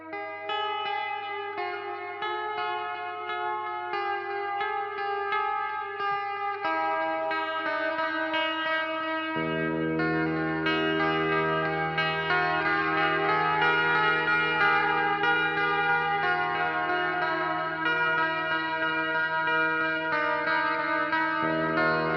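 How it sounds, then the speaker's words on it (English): Guitar chords ring through a Source Audio Collider delay and reverb pedal on its hall setting, producing lush, sustained tones with long echoing tails and a deepening swell midway, played alone. "That's the Source Audio Collider Delay and Reverb."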